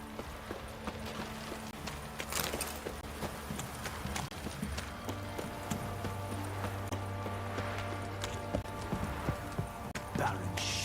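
Horse hooves clip-clop steadily in The Witcher 3 video game, a running rhythm of hoof beats under game music and ambient sound, with character voices speaking at times.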